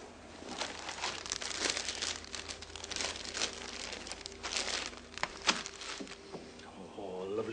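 Plastic crinkles and rustles close by in irregular bursts of crackling, with a faint voice murmuring in the background.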